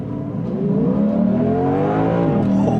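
A Lexus IS 500 F-Sport V8 launches hard from a standstill, its engine note climbing steadily in pitch as it revs up through a gear, loud and close throughout with no talking.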